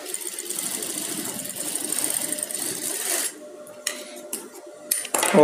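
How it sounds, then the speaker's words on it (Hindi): Sewing machine stitching blouse fabric together with its lining, a steady whirring run for about three seconds, then stopping to short bursts of clatter and handling noises near the end. "तो इसमें सिलाई लगा देनी है।"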